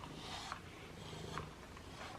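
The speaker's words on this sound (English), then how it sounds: "He's purring away." A cat purrs softly and steadily while being brushed, a low continuous rumble heard close up with no talking.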